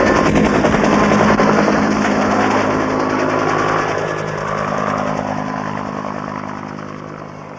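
A military helicopter's rotor thumps and engine whine fill the air loudly and steadily at a besieged camp, slowly fading a little as it moves away.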